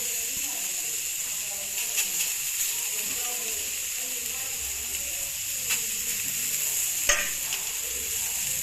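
Swadi fish sizzling as it fries in a pan, a steady hiss with occasional sharp crackles and pops, close and continuous, with faint soft clinks from stirring.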